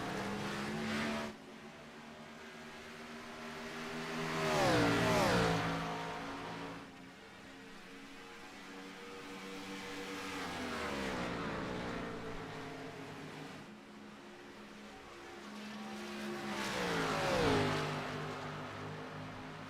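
Stock car engine in the NASCAR iRacing sim at Kentucky, a steady loud drone that swells as cars pass, with a pronounced doppler sweep near five seconds and again near seventeen seconds, and no talk.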